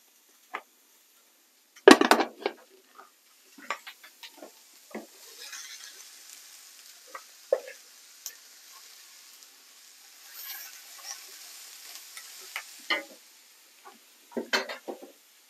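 Onion and capsicum being stirred in a pan for gaucho pie give quiet scrapes and clatters with faint sizzling between, in scattered bursts over near silence.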